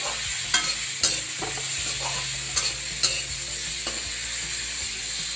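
Boiled potatoes and cauliflower fry steadily in a pan, giving a close, continuous sizzle broken by sharp scraping clicks of a stirring utensil at irregular intervals.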